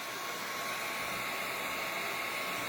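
A Wagner Furno 300 heat gun runs steadily with a broad, even blowing hiss and motor whir, moderately quiet and continuous with no pauses or talk.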